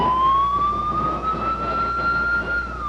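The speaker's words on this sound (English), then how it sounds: "The sirens triggered one of the worst traffic jams Honolulu has ever seen." Tsunami warning sirens wail across Honolulu, Hawaii, a loud, steady, slowly rising tone that holds for the whole stretch, with no voices.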